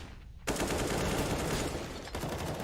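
Sustained automatic rifle fire from a Counter-Strike: Global Offensive professional match on the map Mirage, dense rapid bursts that start abruptly and keep rattling loudly with a brief dip near the end.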